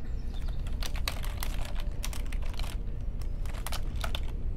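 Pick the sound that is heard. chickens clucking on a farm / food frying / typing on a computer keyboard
typing on a computer keyboard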